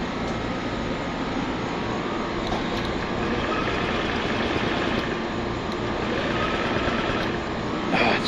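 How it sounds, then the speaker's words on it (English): A Honda Metropolitan II scooter's starter cranks steadily without the engine catching, a continuous close whirring drone lasting several seconds. "Starter's trying to turn."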